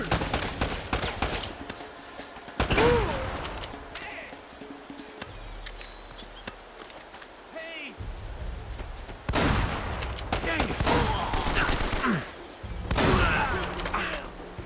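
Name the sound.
gunfire in combat, video game Uncharted: Drake's Fortune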